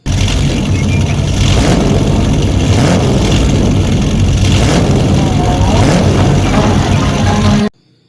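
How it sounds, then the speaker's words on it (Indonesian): Toy race car engine revving in a loud, continuous whirring roar that holds steady for several seconds up close, then cuts off suddenly. "Ini ada mobil balap."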